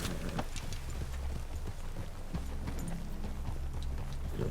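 Horse hooves clip-clopping at a steady walking rhythm in Red Dead Redemption 2, several horses close by with a quiet game ambience underneath.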